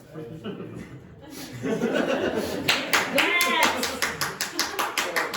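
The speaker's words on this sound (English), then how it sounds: "They were clapping." Students clapping in a classroom, a rhythmic run of individual claps joined by chuckles and laughter after a quieter stretch of talk.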